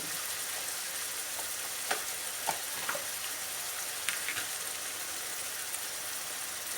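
Broccoli and onion sautéing in a pan, giving a steady, close sizzle and hiss throughout, broken by a few sharp clicks and scrapes as the vegetables are stirred.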